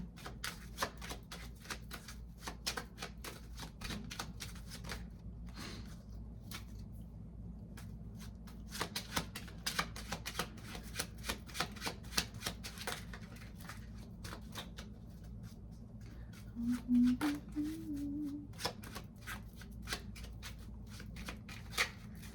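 Slick playing cards are shuffled again and again in a steady run of crisp riffles and flicks, close and fairly quiet, with a short rustle of handling midway and no talking.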